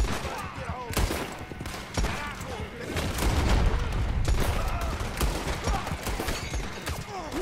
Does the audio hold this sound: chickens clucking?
no